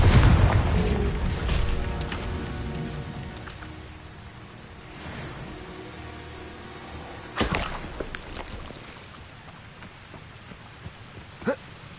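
A Confringo blasting spell detonates in a wizard video game, a booming burst at the start that fades into rumble, followed later by sharper cracks and pops of spellfire.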